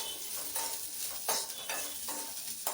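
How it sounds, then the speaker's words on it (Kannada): Sliced okra fries in a pan while being stirred, giving a steady sizzle that is punctuated by a few scraping strokes of the spoon. "ಬೆಂಡೆಕಾಯಿನ ಚೆನ್ನಾಗಿ ಹುರ್ಕೋಬೇಕು."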